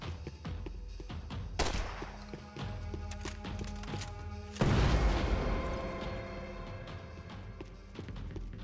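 Propane tanks blowing up in the video game Max Payne 3, scattered clicks and gunshot-like cracks followed by one heavy, booming explosion that rolls off into a long fading rumble.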